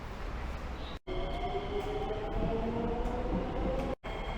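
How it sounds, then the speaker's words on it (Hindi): A morning metro station in Singapore, with a steady low rumble and hum of trains and station machinery, faint tonal whines above it, and two short sharp dropouts breaking the continuous sound. "तो बेसिकली ये मेरा मेट्रो स्टेशन है यहाँ पे।"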